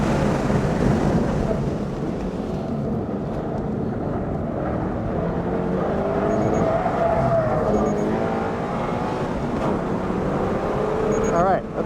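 A 2023 Toyota GR86 is driven hard around a race track, with engine drone rising and falling through gear changes and tyre noise, heard from inside the cabin.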